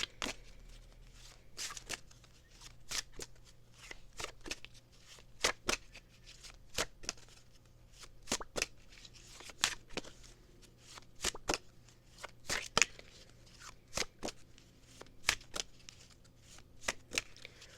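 Tarot cards are shuffled repeatedly, giving crisp riffling snaps and soft slaps in irregular bursts across a long stretch, close up, with faint background hum and little talk.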